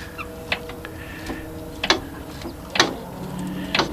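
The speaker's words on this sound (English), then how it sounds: "So you can hear I'm messing with the brake" Brake mechanism on a dying EZGO golf cart being worked by hand, giving a handful of sharp metallic clicks and ratcheting snaps spaced about a second apart over a low steady background.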